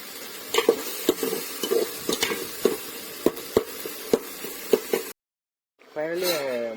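Radish stir-fried in a pan, with a steady sizzle under repeated scraping strokes of a spoon against the pan, close by. A short silence follows, then a voice speaks.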